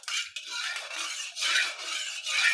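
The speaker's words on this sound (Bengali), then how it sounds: "2-1 মিনিট এভাবে নাড়াচাড়া করব।" A spoon stirs green coconut pudding in a pan, producing soft, close scraping strokes in short repeated bursts with brief pauses between them.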